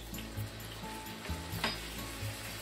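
Enoki tsukune patties sizzling in a pan after sake is added, a steady close crackling fry with light stirring knocks, no talking.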